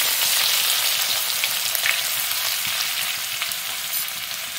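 Ginger-garlic paste with cumin and asafoetida frying in hot ghee in a kadai for dal tadka, a steady, loud, close sizzle that holds without pause, with faint crackles through it.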